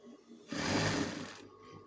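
A sewing machine runs fast in a burst of steady whirring, starting abruptly, holding for about a second, then cutting off into quiet room tone.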